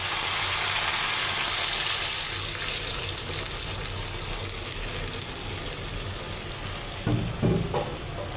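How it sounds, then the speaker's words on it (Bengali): Lentils poured into a pan of onions fried until red, with a loud, steady sizzle that fades somewhat as the dal goes in, plus a few clattery stirring knocks near the end. Close by, with no speech. "এই তো পেঁয়াজটা লাল হয়ে গেছে, এখন হচ্ছে ডালটা এটার মধ্যে ঢেলে দেবো"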